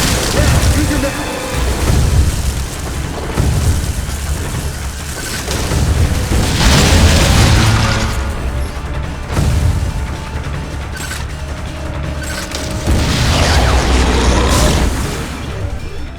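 Heavy booming blasts and mechanical rumbling from a missile explosion in the video game Metroid: Other M, loud and repeated in swelling bursts, with a voice talking over parts of the scene.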